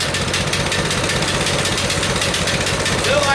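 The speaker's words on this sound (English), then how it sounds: "I got it running and driving, just idling too high" An engine idles high and steady after its carburetor was cleaned, choke on, a loud close continuous rumble with a faint knocking vibration, while someone talks over it.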